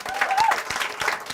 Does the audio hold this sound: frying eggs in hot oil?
no